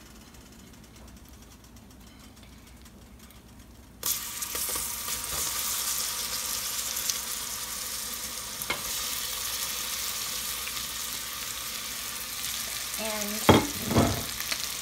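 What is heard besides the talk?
banana slices stirred in thickening pie filling in pan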